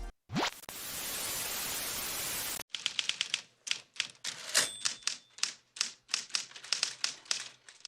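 Keys on a typewriter clack in a quick, uneven series of sharp, close strikes, preceded by a burst of steady hissing noise, a scene from the 1990 film Misery.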